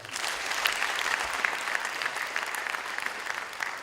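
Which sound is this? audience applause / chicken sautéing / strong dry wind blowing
audience applause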